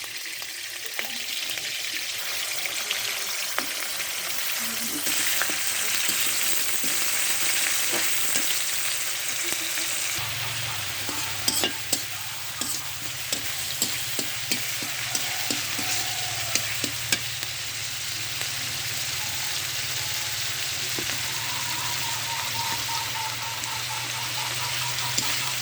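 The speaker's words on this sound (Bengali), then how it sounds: "পেঁয়াজ রসুন এগুলো ভালোভাবে ভেজে নিতে হবে।" Onion and garlic frying in a pan give a constant, dense sizzle with scattered stirring clicks, close and fairly loud throughout, with no talking.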